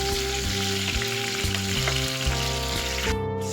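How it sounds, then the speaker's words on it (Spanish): Chopped garlic fries in a pan with a steady, loud broadband sizzle while being stirred, a continuous crackling hiss with no talking. "y los ajos troceados. Vamos a revolver un poco."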